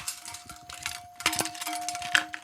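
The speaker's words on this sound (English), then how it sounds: "That's the sound of a bucket." Plastic bucket or containers handled, giving a run of light clattering knocks and taps with a couple of sharper clinks, close and fairly quiet, no talk.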